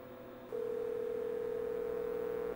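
A steady electronic telephone tone sounds over the line while a 1979-era acoustic modem dials a BBS, starting after a half-second of quiet hiss and holding at constant pitch, soft and alone.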